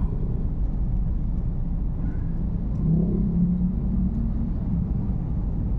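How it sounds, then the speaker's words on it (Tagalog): Heavy traffic on a service road, a continuous low rumble of engines heard from inside a sedan, with a passing vehicle swelling slightly midway. "Grabe mag-traffic dito"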